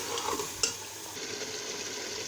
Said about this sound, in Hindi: जो हमने लहसुन अदरक का पेस्ट इसमें ऐड किया था उसके साथ दोबारा से हम इसको फ्राई करेंगे 5 मिनट के लिए।